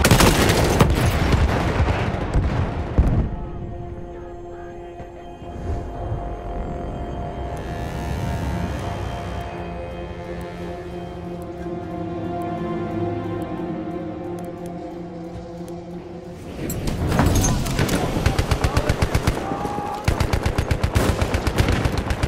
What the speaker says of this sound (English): Enemy coordinates have been sent to our artillery.